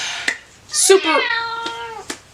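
A cat lets out one drawn-out meow, loud and close, with a few small clicks around it.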